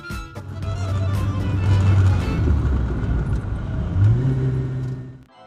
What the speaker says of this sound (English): the car makes enough other sound you can enjoy while driving